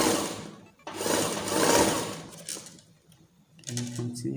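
A sewing machine stitches tulle net ruffles in steady motorized bursts, running, pausing briefly, then starting again with a lower whirring hum near the end.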